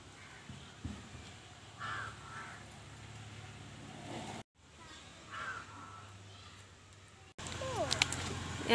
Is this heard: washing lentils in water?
no